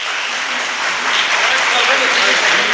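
A crowd of students claps at a large job fair in Udupi, sustained dense applause filling the room for the whole stretch with murmuring voices mixed in.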